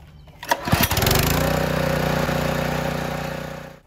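A small pressure washer engine is pull-started: a few quick cord-pull bursts, then it catches and settles into a loud, steady, close running drone with no talk.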